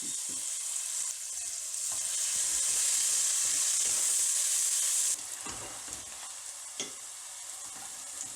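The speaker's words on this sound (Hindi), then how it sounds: "चम्मच हिलाते जाना है ताकि इवनली प्याज उनसे वो ब्राउन हो।" Onions frying with whole spices (bay leaves, black pepper, black and green cardamom, cinnamon, cloves) in a pot for lamb chop biryani, a steady loud sizzle and hiss with scraping stirs of a spoon throughout, no talk.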